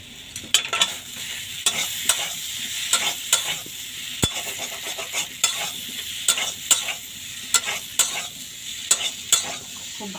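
Potatoes for a Nepali aloor dom bhujiya fry in a pan while being stirred briskly. Repeated sharp spatula scrapes cut through a constant close sizzle, with one metallic clank midway and no talking.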